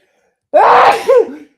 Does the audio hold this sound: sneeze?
yes